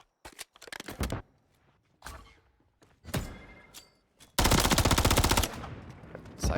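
Gunfire in a competitive esports shooter match between The Militia and Godsent: scattered single shots and short bursts, then a dense, loud rapid-fire burst of automatic shooting, with thuds in between.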